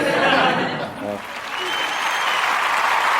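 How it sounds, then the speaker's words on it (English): A live studio audience applauds in a steady, dense wash of clapping, dipping briefly near the middle before swelling again, with a few faint chuckles mixed in. "We had some applause happening from our live studio audience."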